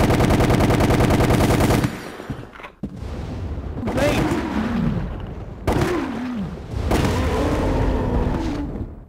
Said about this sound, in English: let's test the last machine gun out.